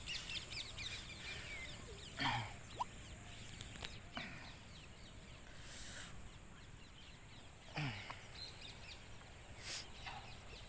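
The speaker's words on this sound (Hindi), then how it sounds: "आवाज़ सुनाई पड़ रहा होगा पक्षी सबका।" Birds call outdoors at dusk beside a river in Rajasthan, with scattered chirps and a few louder squawks rising over a steady hiss of ambient outdoor noise.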